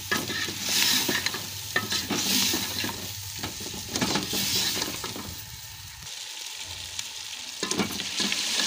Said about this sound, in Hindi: अब इसे मसाले के साथ अच्छे से भून लेंगे 2 से 3 मिनट।